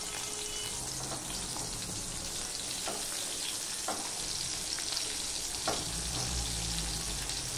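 Chopped onion frying in hot mustard oil gives a continuous loud sizzle with a few light utensil clicks and stirring sounds over the top.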